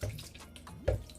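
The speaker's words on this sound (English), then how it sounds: "I'm gonna put a little bit of the liquid." Warm sea moss liquid is poured into a blender, making a quiet, brief splashing trickle with one slightly louder gurgle near the end.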